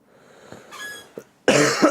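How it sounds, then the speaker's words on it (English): A man's harsh cough comes close to the microphone during a live stream, a few small throat sounds followed by one loud, rough burst near the end, with no words spoken. "Jeez, what a cough."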